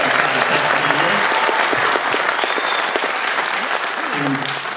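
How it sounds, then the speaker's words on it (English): An audience gives Greg Allman a loud, sustained round of applause, with dense clapping from a crowd that continues for the full stretch with only slight dips. "Big round of applause for Greg Allman"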